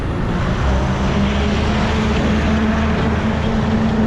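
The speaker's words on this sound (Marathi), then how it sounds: "मोठे मोठे टॅम्पो पण येत आहेत" Large tempo trucks on a road produce a loud, steady roar of engines and tyres close by, broad and unbroken for several seconds, with no voices.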